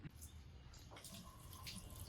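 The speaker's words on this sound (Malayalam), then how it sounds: "നമ്മൾ കുറച്ച് വെള്ളം എടുത്തിട്ട് ഇനി റേഡിയേറ്റർ നിറയ്ക്കാൻ പോവാണ്." Water poured into the radiator of a Maruti Esteem under restoration, a faint splashing, trickling stream with a few brighter gurgles and drips, quiet and close, with no voices.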